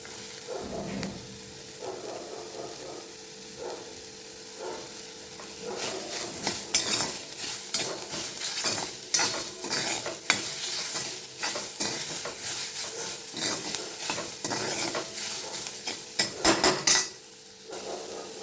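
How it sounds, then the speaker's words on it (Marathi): Cabbage and beans with carrot and pumpkin stir-fried in a pan for an oats recipe, heard as steady close scraping and clinking of a spatula over a low sizzle, continuous for the length of the clip. "आता आपल्याला हे छान असं हलवून घ्यायचं एकदा परतवून घ्यायचं"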